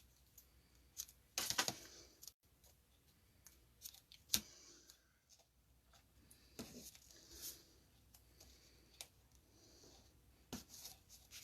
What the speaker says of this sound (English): So I'm going to take a piece and cut it off.